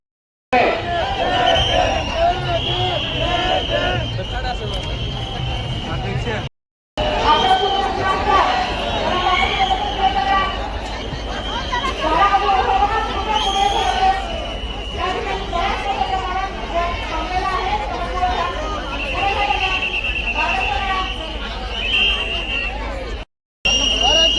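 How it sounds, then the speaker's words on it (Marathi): Large crowd gathered at a Jay Bhim commemoration at Bhima Koregaon, a dense, continuous hubbub of many voices with shouting and chatter, broken by two brief gaps. "ठिकाणी मोठ्या प्रमाणात गर्दी आहे"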